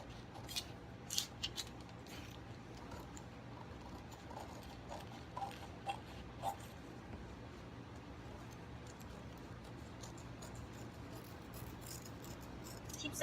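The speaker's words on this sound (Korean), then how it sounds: "이렇게 한 다음에 가위로 자른 다음에 힘을 주고" Scissors cutting fabric for a gored skirt pattern, a few quick, close snips clustered near the start and middle, then mostly quiet room tone.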